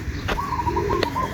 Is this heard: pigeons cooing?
yes